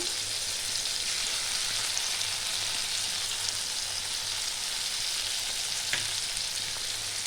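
Poppy seed paste with four green chillies frying in a pan, a dense, even sizzle that holds steady throughout with one faint utensil tap near the end.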